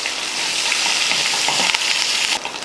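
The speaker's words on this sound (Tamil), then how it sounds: "எண்ணெய் காஞ்சதுமே கடுகு உளுந்து எடுத்து கொஞ்சம் இஞ்சி, அடுத்ததாக 3 பச்சை மிளகாயும் கொஞ்சம் கருவேப்பிலையும் சேர்த்துக்கலாம்." Mustard seeds, urad dal, ginger, green chillies and curry leaves sizzle steadily in hot oil as a tempering for curd rice, a loud continuous close crackle and hiss with no talking.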